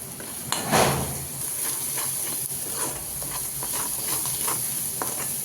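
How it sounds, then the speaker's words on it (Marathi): Masala fries in oil in a pan with turmeric added, a steady sizzle under intermittent stirring and scraping of a utensil against the pan, moderately loud. "आपला मसाला तेल सोडला आहे आपण ह्याच्यामध्ये आता हळद ॲड करून घेऊया"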